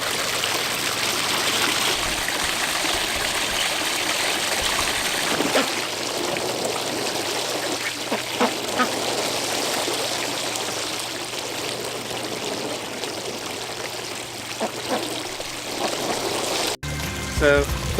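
Water flows steadily and fairly loudly over a small waterfall in a backyard duckaponics filtration setup, a continuous splashing rush that runs almost to the end.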